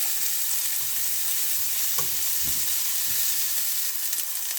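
Beans and potatoes fry in a pan for vegetable fried rice, a steady close sizzle running throughout with a few soft stirring scrapes and knocks of the spoon.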